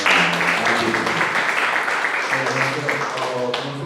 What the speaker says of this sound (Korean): 자, 힘찬 박수로